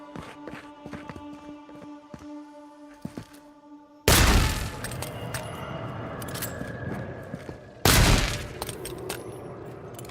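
Shots fired at markers in Avowed, two sharp loud blasts with ringing, crackling tails, following a stretch of quiet light footsteps and clicks.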